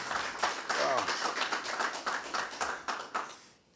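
An audience claps in an indoor community gathering, a dense run of scattered handclaps that holds fairly steady and then thins out at the end, with faint voices underneath.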